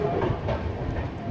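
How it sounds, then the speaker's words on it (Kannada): Passenger train pulling away, a continuous rumbling rail noise with faint clatter heard from on board, steady and moderately loud. "finally train ಹೊರಡ್ತು"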